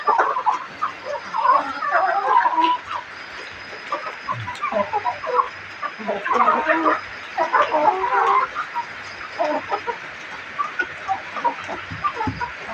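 A flock of farm chickens raised free-range clucks steadily throughout, with overlapping soft calls from several birds at close to medium distance and no talk.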